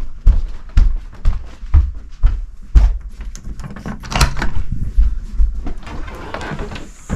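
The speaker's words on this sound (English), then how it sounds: "is that back door? I think he's at the back door." A back door at a deer camp cabin in the woods thumps and rattles repeatedly as it opens and closes, close and loud, with shuffling and faint talk in between.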